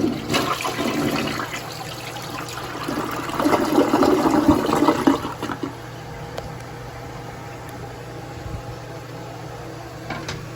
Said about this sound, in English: flush with the handle held down.